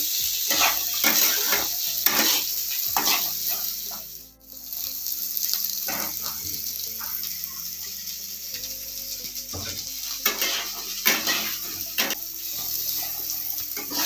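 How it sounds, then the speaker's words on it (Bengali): Chopped capsicum and other semolina upma ingredients are stirred in a frying pan: a low sizzle sits under a series of sharp, close scraping clicks from the spatula, with a short lull partway through and no talking. "ওটাও 1-2 মিনিট ভাজতে হবে। নেড়ে চেড়ে নিতে হবে।"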